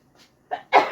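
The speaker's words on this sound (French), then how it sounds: "Ah, je vais éternuer." A person sneezes up close: a faint breathy intake, then a sharp burst and a louder explosive sneeze that trails off, with no talk.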